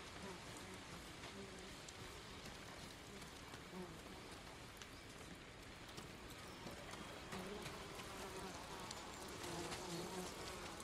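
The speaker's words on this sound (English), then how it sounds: "There's also a beehive up there," Angry bees swarming after their hive is torn down in Ghost of Tsushima, a steady dense buzzing that fills the whole stretch at moderate level, with faint game ambience beneath.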